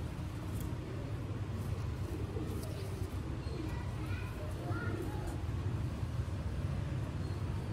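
Ferozpuri pigeons coo softly in a row of low, rolling calls under constant background noise, with someone talking over them.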